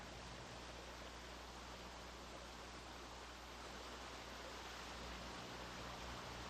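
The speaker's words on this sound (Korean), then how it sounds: "청평사 들머리의 오봉산 계곡에는 머릿속까지 서늘해지는 폭포수가 숨은 듯 자리해 있다." A hidden waterfall in the Obongsan valley at the entrance to Cheongpyeongsa temple pours steadily, a dense, unbroken rushing roar that fills the air close by with no voices.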